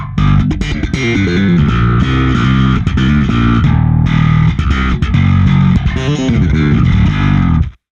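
Slap bass through a distortion plugin plays continuously and loudly, with punchy plucked attacks and a gritty, saturated tone, stopping abruptly at the end.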